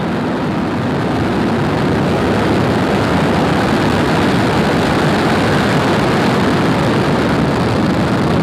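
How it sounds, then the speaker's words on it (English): A SpaceX Falcon 9 rocket thunders at liftoff on the SXM-10 mission, a loud, dense, unbroken roar with heavy low rumble and crackling texture that holds steady throughout. "Ignition and liftoff."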